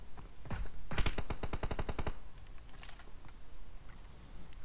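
An AK rifle firing in PUBG Mobile, a rapid burst of about a dozen sharp, loud shots in quick rhythm that stops after about a second, followed by quieter game ambience.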